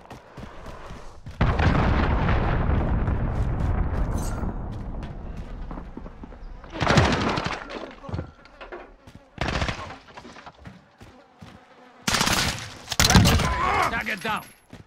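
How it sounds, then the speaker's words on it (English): A cruise missile strike in Call of Duty: Modern Warfare, a heavy rumbling blast followed by sharp explosions and gunfire bursts, with game voices over the action. "Allied cruise missile launched."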